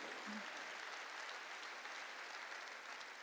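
A church congregation claps together during a sermon, a dense, steady wash of many hands that holds evenly from start to finish with no talk over it.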